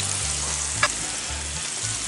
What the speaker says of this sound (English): Give it a few minutes to sear the other side.